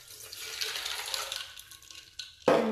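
Water pours into a coffee pot over ice for cleaning, a steady splashing rush that tapers off and ends in a sharp clunk.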